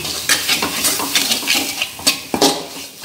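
A vinegar mixture for rose apple pickle is sautéed in a pan, with a loud close sizzle and repeated scraping strokes of a spoon against the metal.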